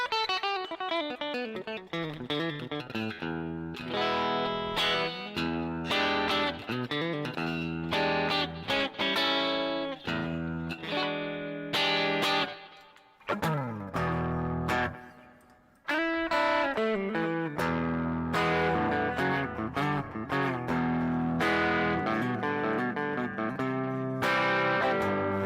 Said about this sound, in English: Very nice guitar. It can do a lot. You can get Stratty kind of tones